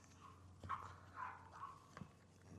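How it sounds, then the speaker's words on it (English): A neighbor's dog barks faintly in the distance at a garden build site, a few scattered barks and yelps over a low background hum. "Neighbor's dog is losing his mind."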